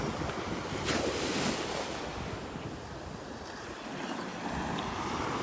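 Ocean waves break and wash steadily onto a Gulf beach in North Naples, Florida, with broad continuous surf and some wind rumbling over the microphone, no voices.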